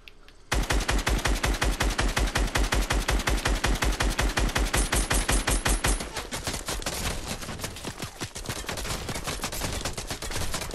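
Rapid automatic gunfire spammed nonstop in Fortnite, a dense, loud rattling stream of shots that continues for several seconds before shifting to a rougher, slightly quieter burst of firing.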